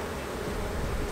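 Honey bees buzz densely and continuously around an open hive during a Minnesota hive inspection, a close, steady swarm drone.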